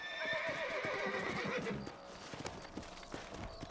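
In Red Dead Redemption, a horse gives a loud, quavering neigh, then hooves clop in an uneven rhythm close by.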